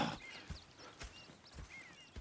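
Horses in the video game Red Dead Redemption 2 clip-clop with soft, uneven hoofbeats, quiet and fairly close, with a few faint whinny-like tones in the background.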